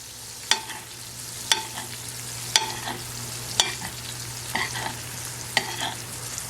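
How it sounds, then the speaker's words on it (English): A burger sizzles in a pan while being basted with vegan avocado butter. A soft, steady fry runs under sharp spoon clicks that land about once a second. "I'm going to take that butter and baste my burger."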